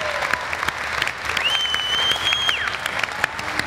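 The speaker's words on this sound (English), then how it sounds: "A round of applause for that video." Dense clapping from a crowd at a Dodge Challenger SRT Demon reveal fills the whole stretch, steady and fairly loud, with a faint high whistle-like tone drifting over it partway through.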